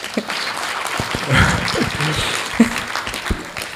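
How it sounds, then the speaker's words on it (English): At a Hare Krishna tent campaign gathering, listeners give a round of applause after a class, a few seconds of close, uneven clapping with some louder individual claps. "I think we should all give a round of applause"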